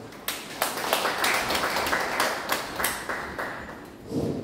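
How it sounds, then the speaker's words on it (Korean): An audience at an indoor forum gives a brief round of clapping, scattered sharp claps that swell into light applause and then taper off, moderately near and without talk. "힘찬 박수로 맞이하겠습니다"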